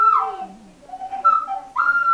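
An indigenous-made whistle crafted to imitate the song of a local bird sounds in a few bright, sliding, warbling phrases with short pauses between them, close and fairly loud, with no talking.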